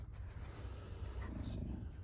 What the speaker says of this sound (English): See, hear him growl.